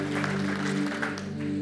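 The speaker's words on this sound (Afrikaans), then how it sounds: "Kan ons net vir hulle hande klap gee asseblief?" A church congregation claps together after a testimony, a steady wash of applause sustained throughout, layered over a low, steady organ-like hum.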